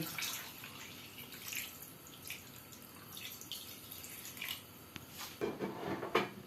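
Water poured into a karahi holding 1 kg of beef for a Pakistani beef karahi, a soft steady splashing and trickling that runs throughout, growing louder with a few sharper splashes near the end.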